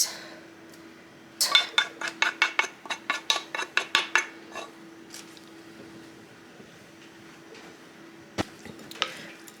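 A utensil stirs homemade copycat Olive Garden Alfredo sauce in a pan, a quick run of close metallic clinks and scrapes followed by a quiet stretch and a few final taps over a faint steady hum.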